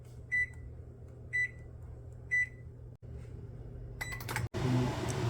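Three short electronic beeps from a microwave oven's keypad, then a click and the steady low hum of the microwave running with a toy dinosaur inside, no voices.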